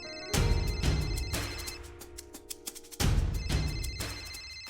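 A telephone rings indoors in a home, two long bursts of ringing separated by a short quiet gap, clear and close with no one speaking.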